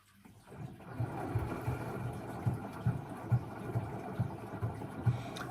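An LG 9kg FCV309WNE washing machine on its rinse and spin cycle gives a faint low hum with a steady, rhythmic thumping as the drum turns.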